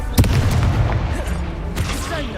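A fire spell cast in Hogwarts Legacy: a sharp booming burst near the start, followed by a lower rumble and another fainter blast, with a voice speaking over the battle noise.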